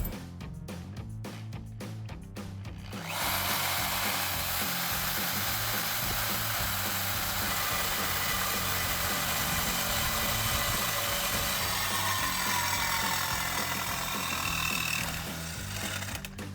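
A power tool cuts loudly and steadily through the exhaust pipe of a RAM 1500 pickup, a harsh continuous grinding that starts after a few seconds of clicking and runs almost to the end before easing off.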